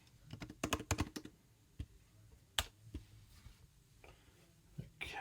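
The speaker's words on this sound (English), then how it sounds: "just type out gutter control" Fingers type on a computer keyboard in a quiet room, a quick burst of close clicking keystrokes at the start followed by scattered, sparser taps and a few louder key hits.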